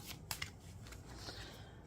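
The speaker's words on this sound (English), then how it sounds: "I'm going to lay down your cards after this final shuffle" A deck of tarot cards is shuffled by hand, giving a few quiet riffling snaps and soft papery flutters at close range.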